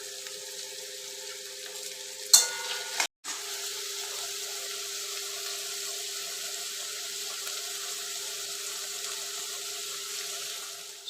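Capsicum and green chillies fry in a pan for a chicken and potato curry, giving a soft, steady sizzling hiss, broken near the start by a short clatter of a utensil.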